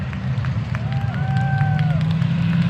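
Crowd at a street stock car main event cheering and clapping, a steady roar of voices with whistles and shouts rising over constant low track rumble, continuous and fairly loud throughout.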